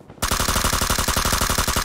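Automatic gunfire in the video game PUBG: a rapid, evenly spaced burst of close, loud shots starting abruptly after a short quiet moment and running steadily to the end.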